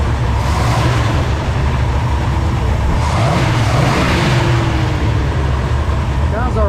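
A 1955 Plymouth engine running on an electric fuel pump without a regulator, a loud, steady close-up idle rumble with a slight rise in revs partway through.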